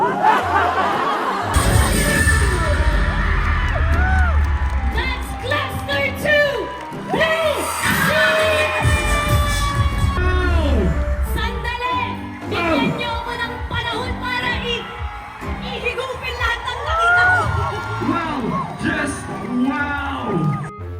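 A crowd at a dance performance whoops, laughs and cheers loudly and continuously, with bangs and shrieking voices mixed through the din.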